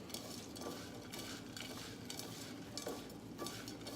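Raw cashew treat ingredients get mixed in a bowl, with soft repeated scraping and stirring clinks of a utensil, quiet and close.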